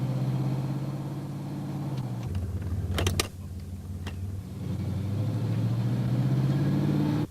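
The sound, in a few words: vehicle driving on a road test, GM 200-4R transmission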